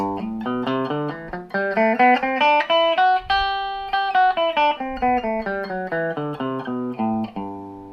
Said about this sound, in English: So there's the G Ionian mode